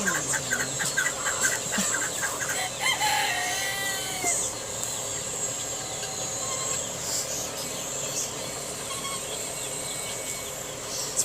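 Hens cluck and a rooster crows among the flock, set against a steady chorus of crickets and insects outdoors; clucks come in bursts early on while the insect drone continues throughout.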